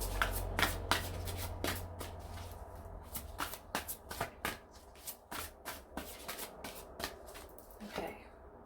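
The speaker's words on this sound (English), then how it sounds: "let's pull a card and see" Tarot cards being shuffled by hand, a run of quick papery riffles and soft slaps in irregular bursts, close and fairly quiet, with no talking.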